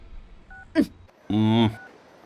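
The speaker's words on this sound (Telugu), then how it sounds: "ఇదిగో లాయర్ ఫోన్ చేస్తున్నాడు" A phone rings with an incoming call in a film scene: a short electronic blip, then a brief bright melodic ringtone burst, with faint beeps before and after.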